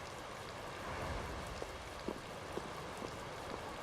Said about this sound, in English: I believe the ongoing rain and wind are being caused by a Blastia.